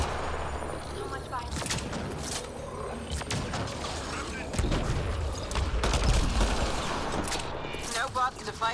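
Heavy gunfire in the video game Mass Effect Andromeda, with repeated sharp shots and bursts scattered over a busy combat soundscape, and voices talking over the fighting.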